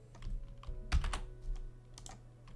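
Keys pressed on a computer keyboard for the Ctrl Alt K shortcut give a run of close, crisp clicks, with a bunched cluster in the middle and scattered taps on either side.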